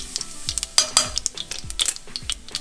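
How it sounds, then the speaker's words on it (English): Mustard seeds, carom seeds, dry red chili and asafoetida sizzle in hot oil for a Gujarati cluster bean and potato curry, with steady frying hiss broken by repeated close clinks and stirring scrapes of a utensil against the pan. "Once the mustard seeds start to pop, go ahead and add the carom seeds and the dry red chili and the Hing or Asafoetida."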